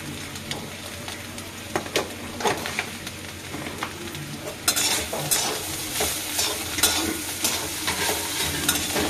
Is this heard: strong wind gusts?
no